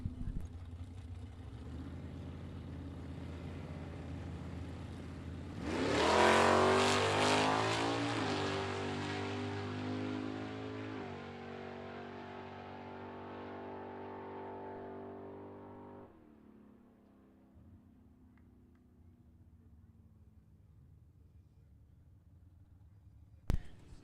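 A 1970 Buick Skylark makes an index-class drag racing run at a strip, its engine roaring up loud from a steady idle, holding a rising harmonic whine through the pass, then dropping back to a lower rumble as it fades.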